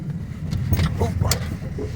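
An old car engine running for the first time in 20 years as the car creeps forward, a rough low rumble with uneven bursts, close by and mixed with people talking.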